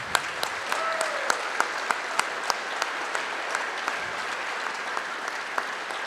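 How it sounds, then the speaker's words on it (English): Crowd applause at a hall of fame awards ceremony, continuous dense clapping with a string of sharp, regular claps from someone nearby cutting through, plus a brief cheer. "could we get a final round of applause for all of these incredible people?"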